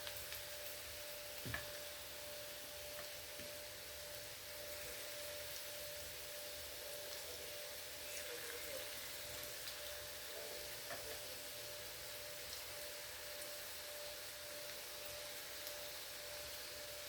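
Sweet potato finger chips frying in oil give a soft, steady sizzle that runs evenly throughout, faint and unbroken, with no voices.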